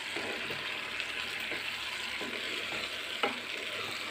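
Egg chilli mixture stirred as it fries in a pan, a steady close sizzle with soft scraping strokes throughout and one sharper clack near the end.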